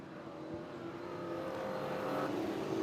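AMCA Nationals race cars in the A-Main at Lismore Speedway drone around the track, a steady, moderately distant engine hum that swells slightly as the close racing continues.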